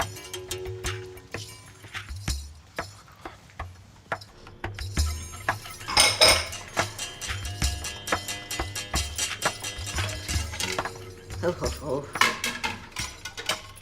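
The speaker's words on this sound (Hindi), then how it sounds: "मैं जरा वो किचन में जाती हूँ बर्तन अलग करने।" Dishes and utensils clink and clatter in a home kitchen as they are sorted, with a steady run of metallic and ceramic knocks under intermittent talk.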